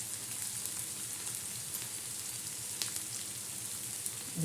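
Egg chutney with thecha sizzles and fries in a pan, a steady soft crackle with scattered pops, fairly quiet and without talk.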